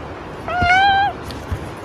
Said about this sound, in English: And being attacked by my cat.